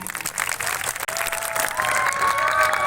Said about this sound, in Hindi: एक बार और जोरदार से तालियां बजा।